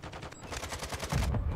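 Fast, evenly spaced gunshots from a Call of Duty match fire in a tight, continuous rhythm. The shots are moderately loud and heard alone, and a heavier low rumble joins in for the final moments.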